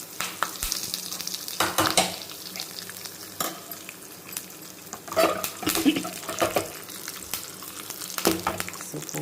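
Hot oil crackles and sizzles steadily with sharp spattering pops, as cumin and mustard seeds fry in a pan, with occasional metallic stirring clinks.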